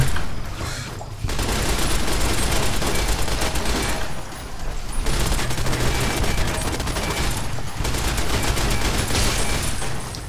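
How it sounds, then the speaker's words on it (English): Enclave plasma rifles in Fallout New Vegas fire in dense, continuous volleys over about ten seconds, with a couple of brief lulls between bursts of loud, overlapping shots. "It's not like the plasma rifles are even a threat, is it?"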